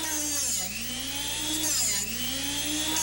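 Close, steady grinding whine of a Drill Doctor Classic 400 bit sharpener working a masonry drill bit, the motor tone dipping and rising as the bit is turned in the chuck.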